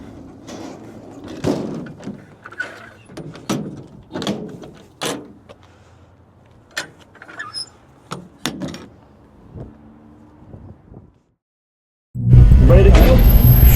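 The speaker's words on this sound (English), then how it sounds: "This is a heavy door." Heavy door of a SpecE36 BMW race car being handled, a series of sharp knocks and thuds with talk between them, ending in a loud sustained roar after a short silence.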